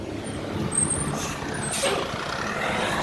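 Large trucks pass nearby with a steady engine rumble, a sharp air-brake hiss and faint high whines, no talking.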